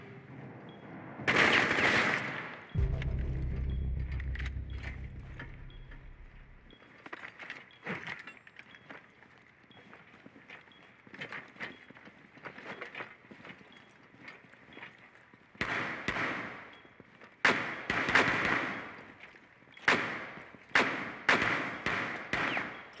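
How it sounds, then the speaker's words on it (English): Cluster charge detonations in Rainbow Six Siege, a run of sharp blasts and bursts of gunfire with a low rumble early on, then spaced loud bangs clustering toward the end. "Blowing cluster charge."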